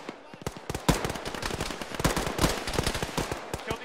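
Enemy gunfire in an Arma video game session with ShackTac, sharp cracking shots in rapid bursts and scattered single rounds, close and punchy, with voices faintly present underneath.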